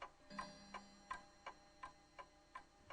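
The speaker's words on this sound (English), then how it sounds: "The clock marking off each hour of dread" A clock ticks steadily, about three ticks every second, each one sharp and clear against a quiet room with a faint low hum.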